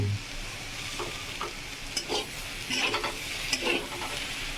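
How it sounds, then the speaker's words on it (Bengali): Mixed vegetable curry sautéing and being stirred in a pan, a continuous soft sizzle broken by intermittent spoon scrapes and stirring clicks, with no voices. "এবার ভালো করে কষিয়ে তারপর নামিয়ে নেব"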